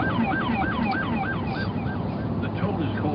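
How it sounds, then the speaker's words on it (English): An LAPD black-and-white patrol car on a Code 3 run sounds its rumbler siren tone, a rapid repeating wail that sweeps up and down over a low rumbling bed, loud and close with steady traffic noise beneath. "Instead of traditional siren, black and whites will sound like this when on a Code 3 run."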